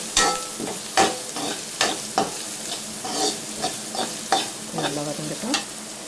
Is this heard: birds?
no